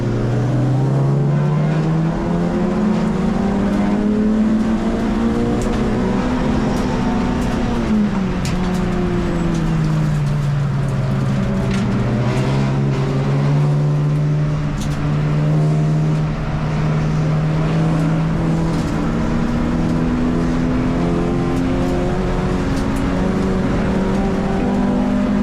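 A race car at Mallory Park, its engine droning loud and continuous from onboard, pitch climbing and dropping with gear changes and acceleration through the lap.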